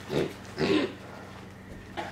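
A pot-bellied pig grunts twice in quick succession, close and fairly loud, followed by a quieter snort near the end.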